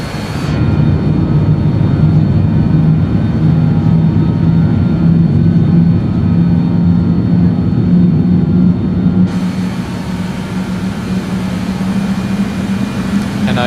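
Jet engines of an RJ100 airliner climbing out in a flight simulator, a loud continuous roar with a steady droning hum throughout, the high hiss dropping away abruptly partway through.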